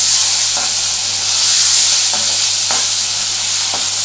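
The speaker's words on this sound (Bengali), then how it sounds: "একটু ভেজে নিচ্ছি।" Pieces of kaikka (needlefish) fry in hot oil over a gas flame, a loud, close, continuous sizzle. A few soft stirring knocks break through it, and nobody speaks.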